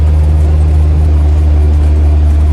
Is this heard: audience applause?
no